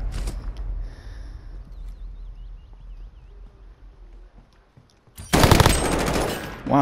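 Machine gun fire in Call of Duty Modern Warfare, a loud close burst of rapid shots erupting after a stretch of quiet background game noise, continuing to the end.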